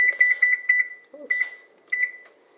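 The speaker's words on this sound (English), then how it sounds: "Timer to 12 minutes." A kitchen oven timer beeps in quick bursts, a run of rapid electronic pips followed by two shorter groups, clear and close with no talking.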